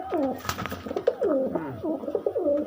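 Caged pigeons, including Giribaz, Madras, Kalanka and Kagji breeds, coo in dense overlapping rolling calls, loud and close, one after another with no pause.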